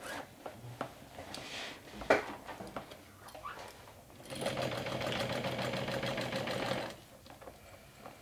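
A sewing machine sews down a half-inch seam on a backpack being made into a handbag, giving one steady run of about two and a half seconds after quiet fabric handling and clicks.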